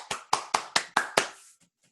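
Six sharp, evenly spaced claps ring out close by, each fading quickly, as a small live audience applauds after a band's song in a bar.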